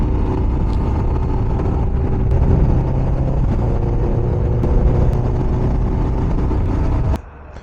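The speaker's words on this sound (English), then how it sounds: "The sound of the Benelli is very pleasant. It's an inline 4 engine, and the sound is very good" A Benelli motorcycle with an inline-four engine runs at a petrol pump with a smooth, steady drone. The hum holds close and even for about seven seconds, then cuts off abruptly as the engine is shut down.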